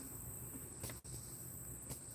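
Crickets or cicadas trill steadily outdoors near a front porch on an evening, a continuous high insect buzz with a brief dip partway through.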